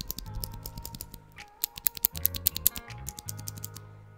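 Cherry MX blue switches on a mechanical keyboard clack through a rapid typing burst, crisp close-up clicks in uneven clusters with a short pause midway, heard alone.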